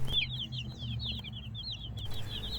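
Young meat chickens in a garage give rapid, repeated high chirping calls close by, over a low steady background hum.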